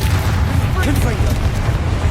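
The Confringo spell explodes in Hogwarts Legacy, a loud, dense, rumbling blast that fills the whole moment, with a voice shouting over it.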